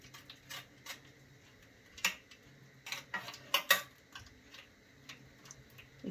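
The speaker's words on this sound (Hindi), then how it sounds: "दही मिला लेते हैं और इसे अच्छे से मिक्स कर लेते हैं" Sour curd being whisked in a bowl for balushahi dough, heard as soft scattered clicks and taps of a spoon against the bowl, fairly quiet and unhurried, with no talk.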